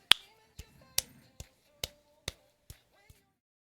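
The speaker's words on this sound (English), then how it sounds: "Digital claps." Digital claps in a song: eight crisp, dry hits spaced roughly half a second apart, loud and close, with faint music between them and no voices.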